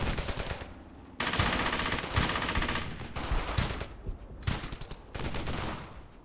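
Heavy, continuous gunfire in the World War II shooter game Brothers in Arms: Hell's Highway, with dense bursts of machine-gun and rifle fire that rise and fall, loud and close, with no voices heard.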